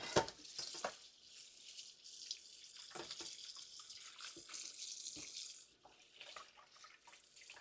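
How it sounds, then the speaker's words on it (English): Beef being washed under a running kitchen tap for Jamaican stew beef, steady splashing water with bursts and brief dips as the meat is turned, close and fairly loud, no voices. "So we're going to wash our beef now"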